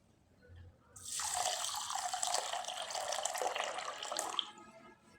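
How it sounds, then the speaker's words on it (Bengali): Running water pours over small sago pearls as they are washed, a steady close splashing hiss that starts suddenly, holds for several seconds, then stops. "এবার সাবুদানাটা জল দিয়ে ভালোভাবে ধুয়ে নিতে হবে।"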